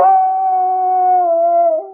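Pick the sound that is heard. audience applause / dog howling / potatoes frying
dog howling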